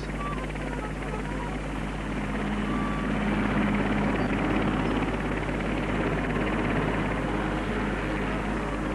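An RAF helicopter carrying a spire to a dropping zone drones steadily with a deep, pulsing rotor hum that grows a little louder midway. Indistinct voices may sit faintly underneath.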